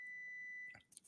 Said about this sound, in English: Sorry for the beeping again.